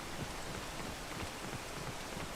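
Steady rain falls in the woods as a soft, even hiss of drops, faint and continuous, with no voices.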